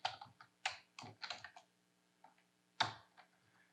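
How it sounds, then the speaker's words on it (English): A few short bursts of keystrokes on a computer keyboard, quiet and close, with gaps between clusters of clicks over a faint background hum. "So I'll type the first one."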